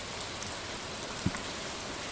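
Rain falls steadily in the Stardew Valley video game, a constant soft hiss with a single faint tap near the middle.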